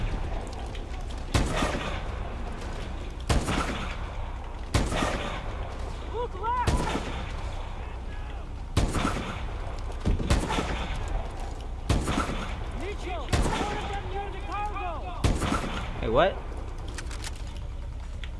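Sniper rifle shots in Call of Duty: Advanced Warfare crack out as sharp, heavy single reports spaced a few seconds apart over a low rumbling game backdrop, with occasional talk between them.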